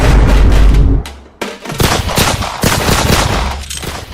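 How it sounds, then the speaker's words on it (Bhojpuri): Gunshots as a sound effect in a comedy skit: loud, close bursts of gunfire with sharp cracks and booming blasts, a rapid volley cutting out briefly before more shots follow. "गोली चलाओ ना थोड़ा।"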